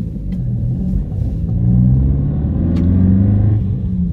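A loud, deep exhaust rumble from a modified stage 2 Audi A1 drones steadily throughout, swelling slightly midway as the engine revs, with no voices.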